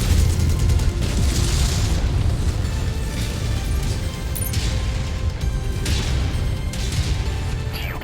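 Missile blasts in the video game MechWarrior 5: Mercenaries, a dense run of heavy booming impacts and crashes, loud and continuous with repeated bursts and rumbling low end.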